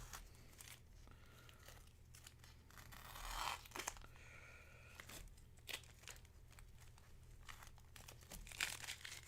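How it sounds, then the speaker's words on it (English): Tape peeled slowly off an ink illustration on paper, giving close, quiet crinkling and tearing rasps in several drawn-out pulls with brief pauses, alone without talk. "The tape peel ASMR."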